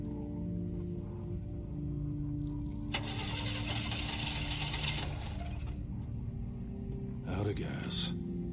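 Car engine in a video game cranking and failing to catch when out of gas, a rough mechanical grinding lasting a few seconds over a low hum, followed by a brief rattling clatter.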